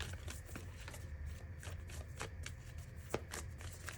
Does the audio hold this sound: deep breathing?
no